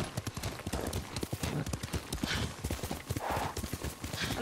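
A horse gallops in the samurai video game Ghost of Tsushima, with quick repeated hoofbeats close by and a brief whinny, under a steady layer of game ambience.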